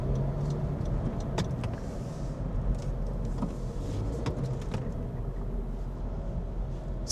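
Road traffic while driving north on Beck Road in Michigan, a steady low rumble of the car and surrounding vehicles that holds evenly throughout, with faint passing swishes and no talking.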